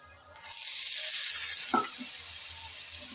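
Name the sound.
potatoes added and frying in a pan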